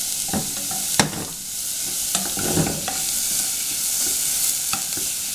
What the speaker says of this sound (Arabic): هاخد تشويحه كده للبصله، مش هحمرها، هشوحها بس.